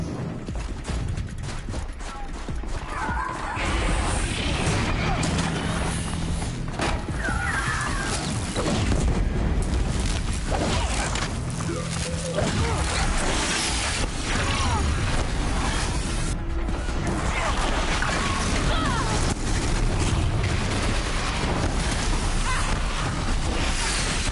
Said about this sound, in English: That is a whole lot of explosions.